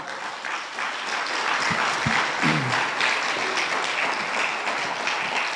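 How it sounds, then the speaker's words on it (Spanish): Strong applause rises from a church congregation, a dense, steady wash of clapping, with a few faint voices briefly heard beneath it. "Dale un fuerte aplauso al Señor."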